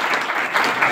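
An audience at a sericulture farming event gives a brief, loud burst of applause, with dense clapping throughout.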